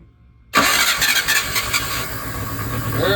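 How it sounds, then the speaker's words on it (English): The engine of a 1977 Chevy Luv truck, slightly flooded, cranks and fires right up after a moment of quiet, then runs loud and rough with a revving, uneven idle close by. "Now we're gonna try to crank it up again."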